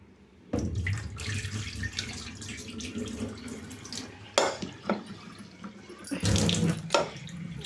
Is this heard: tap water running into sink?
yes